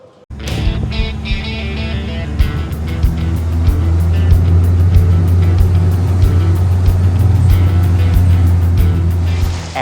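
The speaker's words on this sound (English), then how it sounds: "on our way in an open-air taxi to" Steady engine rumble and road noise from an open-air taxi driving toward Lower Bay Beach from Port Elizabeth on Bequia, loud and continuous throughout with wind and rattling over the motor.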